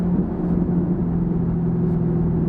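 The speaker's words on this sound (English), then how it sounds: "This is active rev match, windows up inside the car." From inside a closed 6th-generation Chevrolet Camaro with an MBRP axle-back exhaust and active rev matching, a steady low engine drone and exhaust rumble hum along at an even level, muffled, with no voices.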